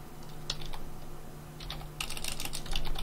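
Clicks from a computer keyboard while Java mod code is typed, close and crisp, with scattered single keystrokes that turn into quicker bursts toward the end over a low steady hum.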